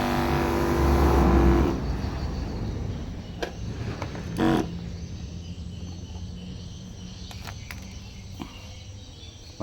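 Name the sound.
engine of homemade assembled sprayer pump running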